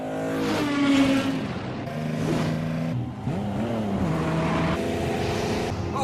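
The cursed Z sports car from a film fires up and revs, its engine tone climbing and falling in loud, sustained sweeps for several seconds without pause.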